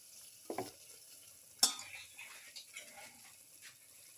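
Pilaf with pepper, garlic, milkfish and brindleberries is stirred in a pan, giving a few faint scraping and clinking strokes with a soft sizzle beneath, quiet and close.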